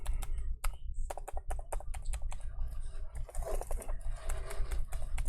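Keys tapped one after another on a Lenovo IdeaPad 5 14ARE laptop keyboard with several dead keys, giving a steady run of close, crisp clicks over a low background hum.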